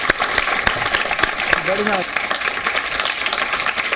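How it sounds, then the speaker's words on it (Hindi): Loud applause from an audience at a televised poetry contest on political issues, dense clapping running throughout, with a brief voice heard over it. "एक बार जोरदार तालियां"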